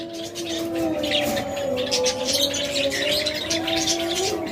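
Pet budgerigar pairs, offered for sale, chirp and warble in a busy, continuous chatter of overlapping calls at moderate volume.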